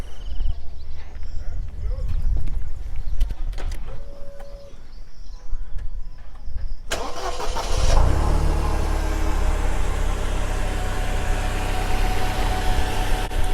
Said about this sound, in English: So let me turn on this vehicle for you.